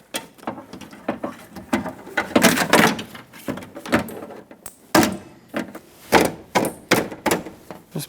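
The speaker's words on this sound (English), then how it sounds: "Just put in all the push clips that held it on." Plastic push clips snapped into an interior door panel of a Ford E-350 van's right cargo door, giving a series of short, close thunks and clicks in uneven rhythm with quiet gaps between them.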